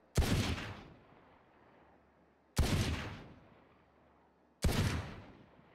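Three loud Sheriff pistol shots fired at 50 meters in the video game Valorant, each a sharp crack with a decaying tail, spaced about two seconds apart, with no talking between them.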